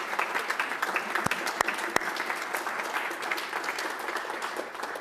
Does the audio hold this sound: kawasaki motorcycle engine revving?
no